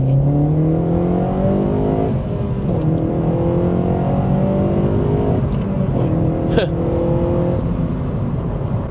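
2012 Honda Civic Si engine revving loud and close inside the car, rising in pitch through several gears, with brief dips at each shift, sustained and alone.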